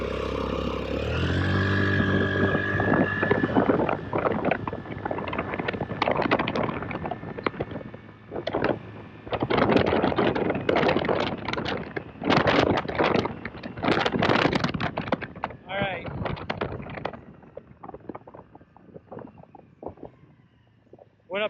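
A Honda Navi scooter fitted with a Yoshimura exhaust accelerates in repeated pulls, the engine note rising and falling in bursts, close and loud with wind buffeting the microphone outdoors.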